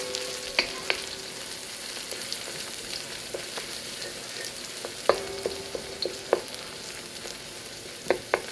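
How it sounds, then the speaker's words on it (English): Honey and spices sautéing in hot oil for sweet and spicy Szechuan beef, a constant close sizzle broken by occasional sharp pops and utensil clicks, no talking. "Saute all this flavor. We'll infuse in the oil."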